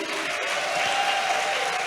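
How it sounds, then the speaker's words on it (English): An in-person audience at a talk show taping gives a round of applause, a continuous, even roar of many hands clapping with light crowd murmur, steady and moderately loud throughout. "the loudest round of applause. First, for those of you here in person, let's hear it for you."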